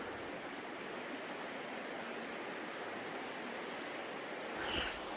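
Steady, full rushing of a waterfall in Zion National Park fills the whole stretch, constant and broadband, with a faint thump near the end.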